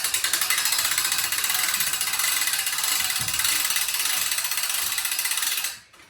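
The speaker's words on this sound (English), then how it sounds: "You put a big animal on it, it cranks right up, no problem." A crank-up livestock stand for Boer goats ratchets upward in a fast, steady series of metallic clicks, close by, for about five and a half seconds before stopping abruptly.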